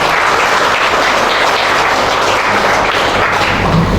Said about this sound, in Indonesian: marilah kita apresiasi untuk kita semua dengan tepuk tangan yang hangat dan penuh